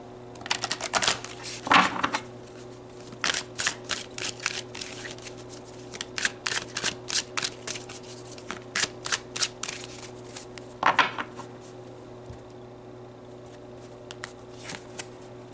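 Tarot cards riffled and shuffled by hand in a quiet room: rapid bursts of crisp flutter, with several longer riffles and many short, evenly spaced slaps that fade and return throughout.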